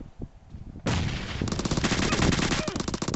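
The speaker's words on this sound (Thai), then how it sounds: "อูซี่ยิงอยู่ใกล้เนี่ยระวัง" Rapid bursts of automatic gunfire from an Uzi submachine gun in a video game, loud and close, rattling continuously after a short quieter lead-in.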